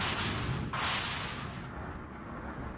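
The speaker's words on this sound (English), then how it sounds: "Introducing the sword rocket jump." A loud, broadband blast from a sword rocket jump in a video game erupts at once and rumbles away over a few seconds.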